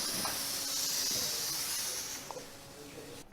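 A steady hissing spray, like water from a hose, runs throughout at moderate level, broken by a couple of faint clicks and a sharp bump at the very end, with no talk over it.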